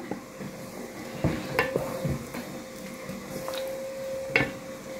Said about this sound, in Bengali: তারপরে আমি নেড়ে দিচ্ছি।